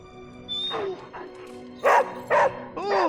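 A dog in the video game Midnight Suns gives a string of short barks and yips, four or five close bursts spaced unevenly over about three seconds, clear and fairly loud.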